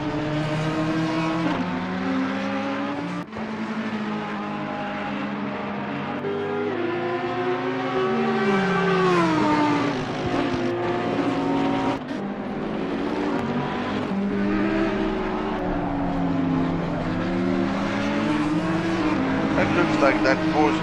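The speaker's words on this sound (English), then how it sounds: "It looks like that Porsche is humping along. Doesn't sound very powerful" Porsche race car engine droning steadily during the Zandvoort race, a sustained harmonic whine rising and falling in pitch with a fairly weak, labouring tone, mixed with commentary voices throughout.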